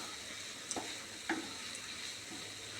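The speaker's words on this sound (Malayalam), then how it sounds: "ഈ ഫ്രൈ ചെയ്ത് വെച്ച വെണ്ടയ്ക്ക ഇതിലേക്ക് ആഡ് ചെയ്യാൻ. എന്നിട്ട് ഇത് നന്നായിട്ട് മിക്സ് ചെയ്യുക." Fried okra being stirred into tomato and onion in a pan, giving a steady low sizzle with a few soft scrapes and clacks of the spoon, fairly quiet and close, with no speech.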